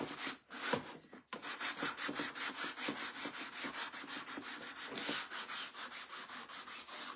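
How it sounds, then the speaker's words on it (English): Hand sanding smooths a surface during a Chalk Couture craft project, giving continuous rhythmic back-and-forth rubbing strokes, close and fairly loud, with a brief pause near the start and no speech. "I'm gonna sand this down just so we can get a little bit more smooth"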